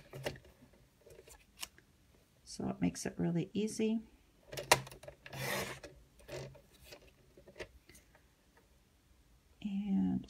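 A paper cutter slices card into 1-inch strips, giving a few short rasping cuts close by between stretches of quiet talk.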